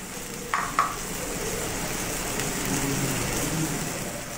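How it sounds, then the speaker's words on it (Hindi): Apple halwa stirred in a pan after nutmeg powder is added: soft, steady scraping and faint sizzle throughout, with two brief louder clinks of the spoon against the pan near the start. "और इसको हम अच्छे से इसमें मिक्स कर देंगे।"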